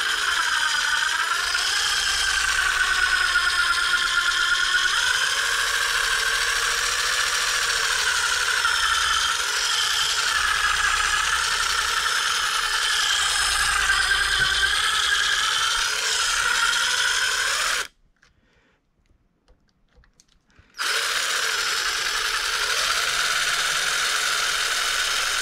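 A power drill boring out the post of a 1948 Chrysler door handle, a steady whining drone held for long stretches, cutting out briefly near the end before starting up again.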